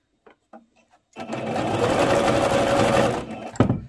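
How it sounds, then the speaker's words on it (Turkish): A sewing machine stitches stretchy spider-weave fabric on a straight seam, a few light clicks before the motor starts up and runs a steady, loud, close whirring for about two and a half seconds, then stops with a knock. "Örümcük kumaş olduğu için hafif dikişimi çektirerek dikeceğim."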